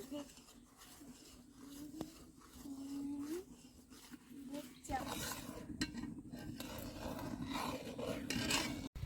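Milk being stirred with vinegar in a pot to curdle it for Bengali rasgulla, a soft scraping and rubbing of spoon against metal with light clinks, carried on under a woman's steady speech.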